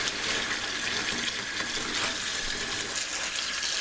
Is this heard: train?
no